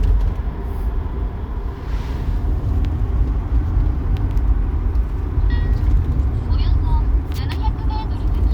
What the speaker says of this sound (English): So I'm using the Izu Hakone Railway to get back to